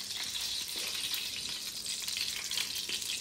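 A pinch of asafoetida dropped into well-heated oil gives a soft, continuous sizzle with faint crackles, close but quiet, with no voices.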